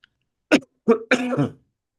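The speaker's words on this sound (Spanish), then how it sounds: "ya se me va a pasar esta tos" Three short, harsh coughs in quick succession, close and fairly loud, the last one longer and raspier, with silence around them.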